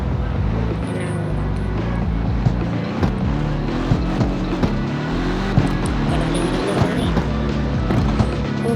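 A BMW is driven in the CarX Street video game, giving a steady engine drone with rising and falling revs and occasional shifts, while a voice talks faintly over it.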